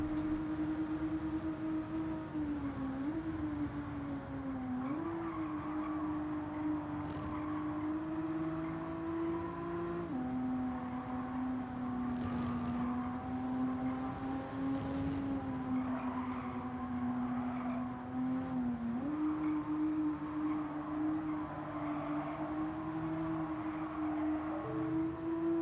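Nissan race car engines roar through a Gran Turismo race, a steady loud drone with rising and falling pitch as cars shift gears and accelerate, continuous throughout with no talking.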